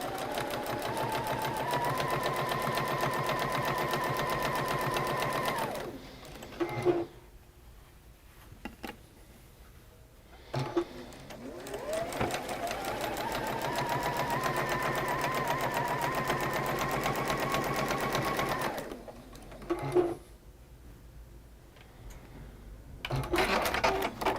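A sewing machine stitching a quilt block runs in long steady whirring bursts, stopping twice in between, close up and mostly alone.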